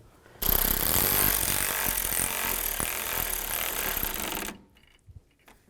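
Ratchet wrench clicking rapidly and steadily as a bolt is started and tightened on the radiator of a 2005-15 Nissan Xterra, close and loud, running for about four seconds then stopping, followed by a couple of faint knocks.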